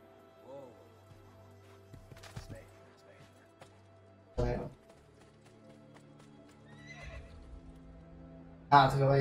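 A horse in Assassin's Creed II whinnies early on, followed by scattered hoof clip-clops and a couple of sharp louder impacts, with speech mixed in at moments.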